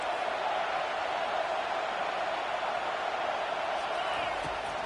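Stadium crowd noise in an American football video game forms a dense, steady roar throughout, loud and unbroken with no clear individual voices.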